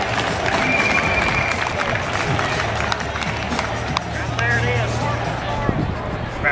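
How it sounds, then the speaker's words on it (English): Round of applause from an audience, steady clapping and crowd babble at moderate level throughout, with a few louder claps standing out near the end. "Everybody give him a round of applause."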